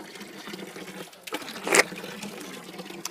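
Public drinking water fountain in the Roman Forum gives a short, bright splash of running water near the middle, rising briefly above a quiet outdoor background.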